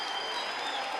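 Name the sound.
congregation applause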